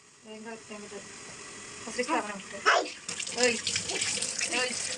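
Tap water runs and splashes into a container being readied for washing with soap, a close, uneven gurgle with people talking over and around it.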